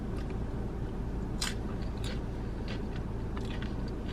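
Crunchy Doritos chips eaten together with seasoned taco beef, steady close-up crunching and chewing with a few sharper bites standing out, no talking.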